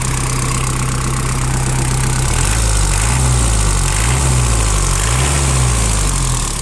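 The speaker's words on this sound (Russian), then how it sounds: "давайте послушаем теперь, как работает двигатель" An engine idles steadily and evenly nearby, a constant low hum with a slight rhythmic wobble in its tone.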